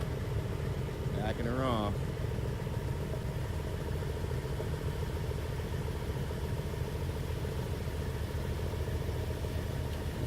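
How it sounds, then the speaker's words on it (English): A V10 engine idles steadily after its first start, with a quiet stock exhaust, a continuous low rumble running throughout while someone speaks briefly near the start. "Definitely got to do something with that V10 exhaust."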